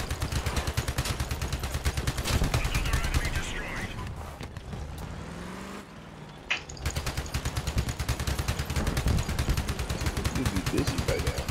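Rapid automatic gunfire from guns mounted on a small tracked vehicle in a build-and-battle video game, dense and loud, with a pause around the middle before resuming, with talk over it.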